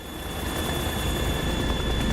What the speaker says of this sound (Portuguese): Como esses helicópteros não foram detectados no espaço aéreo americano é uma boa pergunta